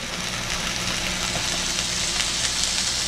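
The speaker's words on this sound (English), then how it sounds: "Ooh, can you hear that sizzle?" Ground beef sizzles in a pan as the base for hamburger gravy. The frying hiss is steady, close and even throughout, with no voices over it.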